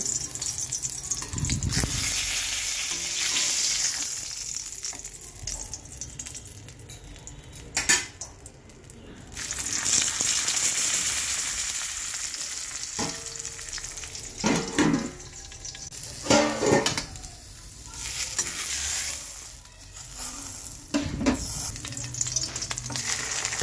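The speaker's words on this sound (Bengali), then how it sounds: "হালকা ভেজে এপিট ওপিট করে ভেজে তুলে নেব, আর একটা ভেজে নেব।" Eggplant slices frying in a pan, with oil sizzling and crackling throughout, interrupted by clinks and scrapes of utensils against the pan as the pieces are turned.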